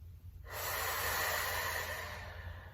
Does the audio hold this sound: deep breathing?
yes